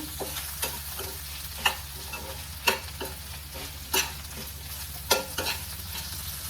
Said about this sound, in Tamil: தக்காளியும் சும்மா லைட்டாக வதங்கினா போதும்